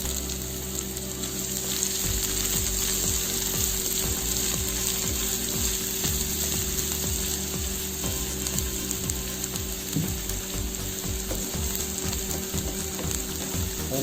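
Onion frying in a hot pan for fried rice, a steady dense sizzle throughout with occasional stirring clinks and scrapes, close and continuous, no voices.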